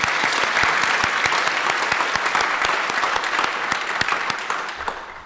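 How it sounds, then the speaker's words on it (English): A crowd at a University of Maryland Eastern Shore Flight Academy graduation ceremony applauds its flight instructors, with dense, steady clapping that holds loud throughout and eases slightly toward the end. "Yeah, we should clap for them."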